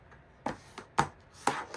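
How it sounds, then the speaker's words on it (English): Paper is creased into an accordion fold, with four distinct crisp folding snaps spaced about half a second apart, close and fairly quiet. "Taking it, folding it towards the outside."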